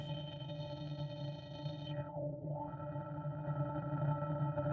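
A droning synthesizer tone in Arturia Pigments 6, distorted by the filter's drive parameter into rich harmonics; midway the filter sweeps down and back up, muffling the sound briefly before it opens again.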